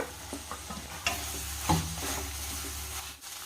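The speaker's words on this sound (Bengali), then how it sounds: "তো এইভাবে মশলার সঙ্গে আলুটাকে কিছু সময় নাড়াচাড়া করে ভেজে নিতে হবে।" Fried potatoes stirred with masala in hot oil in a pan, a steady sizzle of frying with scraping stirs and a few sharp utensil knocks against the pan, fairly close, with no talking.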